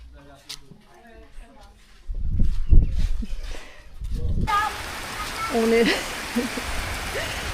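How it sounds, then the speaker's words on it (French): Voices talk at first, then a dense hiss of heavy rain pours in and holds steady, with a voice still heard over it, in Adjarra, Benin. "il pleut des cordes."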